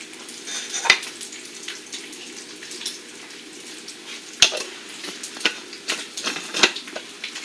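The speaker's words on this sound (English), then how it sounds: "when I start frying these up, sauteing them before I dump the scrambled egg mix" Sliced jalapeno peppers sauté in a hot pan with a steady soft sizzle, broken by a few sharp clicks and scrapes from stirring, and no talking.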